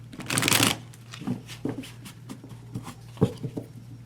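A deck of cards is riffled in one loud burst at the start, followed by softer taps and shuffling handling of the cards, close by with no talking.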